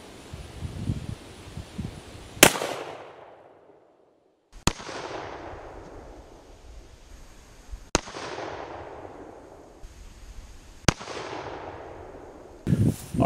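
Four loud gunshots from a Colt 1847 Walker revolver fired at a shaving cream can on a shooting range, each sharp crack followed by a long decaying echo, spaced a few seconds apart, with no talking.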